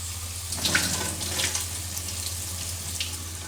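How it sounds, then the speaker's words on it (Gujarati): Soaking water runs off moong dal in a steady close-up pour, a continuous splashing trickle with a low hum underneath and no speech. "દાળનું પાણી કાઢી નાખવાનું"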